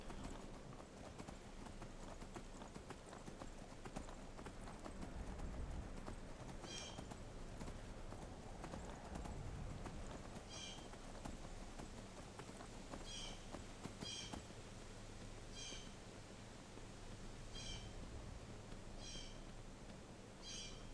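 Horse hooves clip-clop in Skyrim, a steady run of hoofbeats under wind and ambient game sound, with regular repeated steps through the second half.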